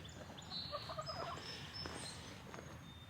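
Soft clucking and murmuring from chickens at a moderate distance over a steady outdoor garden background, with a few brief chirps.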